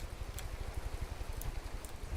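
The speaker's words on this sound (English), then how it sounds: "I don't know why I hear rain sounds, because I'm in space." Steady soft patter like rain on a surface inside the From the Depths game, faint and continuous with a low rumbling undertone, no voices.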